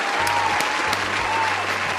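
Sustained applause from an audience, dense clapping that is loud and even throughout with no voices over it.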